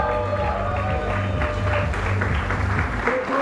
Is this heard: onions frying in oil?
no